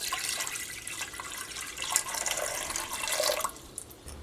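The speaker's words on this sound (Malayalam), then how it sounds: "ഈ ഞാൻ കുക്കറിലേക്ക് വെള്ളം ഒഴിക്കുകയാണ്" Water pours into a pressure cooker holding tamarind, a steady close splashing rush lasting about three seconds before tapering off to quiet drips.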